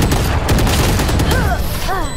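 Valorant gunfire as a player runs and shoots: a dense burst of rapid shots over game noise, with excited voices breaking in near the end.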